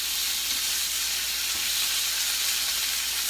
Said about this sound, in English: And so, flip, look at that sear.